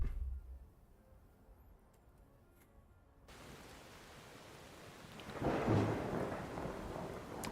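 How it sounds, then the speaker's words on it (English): Thunder and rain in the video game Skyrim: a quiet rumble, then a steady wash of falling rain swells with a louder rolling thunderclap, heard alone without talk. "It rains in Skyrim in the middle of summer."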